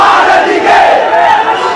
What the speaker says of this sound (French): Dans les rues de Colombo, des centaines de manifestants crient leur colère.